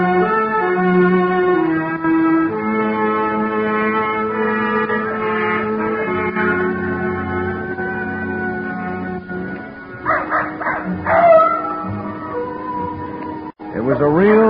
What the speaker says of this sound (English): Old Nugget the dog was carrying on a long-distance conversation with his country cousins, the coyotes up in the hills